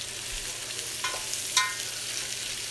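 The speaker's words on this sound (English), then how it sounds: "So just give it a good stir around. Make sure everything's cooking evenly." Lamb stew vegetables of potato, carrot and onion frying in a pot, a steady sizzle with a couple of sharp spoon scrapes and clinks as they are stirred, no speech.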